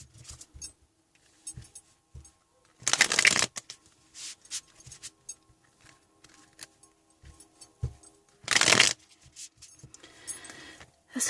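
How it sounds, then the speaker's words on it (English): Tarot cards are shuffled by hand in two brisk bursts of riffling, with scattered softer taps and card handling between them, close and fairly quiet, no talking. "Let me just give these a quick shuffle."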